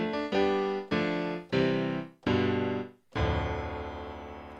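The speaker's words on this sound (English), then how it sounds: "So the default sample in the default initial tone is called 1 piano 1L," PCM piano sample named 1 piano 1L in a Zenology synth, playing a run of five struck chords followed by a longer ringing chord that slowly decays, alone and fairly quiet.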